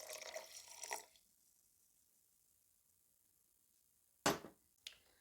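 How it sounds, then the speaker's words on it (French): Water splashes into a bowl of homemade mustard mixture with vinegar for about a second, then quiet, followed by two short, sharp clinks or drips near the end. "on va mettre notre eau."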